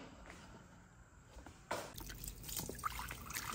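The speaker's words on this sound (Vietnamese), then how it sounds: "đem tàu hũ kia này linh đi à, xả nước lạnh cho nó hết chất dầu nha" Fried tofu skin rinsed under cold running water in a kitchen: quiet drips and trickles at first, then a louder splashing gush as the flow hits, close by with no talk.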